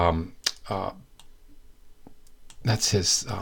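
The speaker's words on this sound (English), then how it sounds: "So look, I'm just clicking and pulling, okay?" A computer mouse clicks repeatedly while a cartoon is drawn with a pen tool, producing sharp, scattered near clicks mixed with voice.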